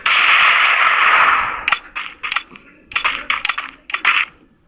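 Gunfire in a shooting video game: a sustained loud burst, then a string of sharp single shots and short bursts at irregular spacing, close and crisp.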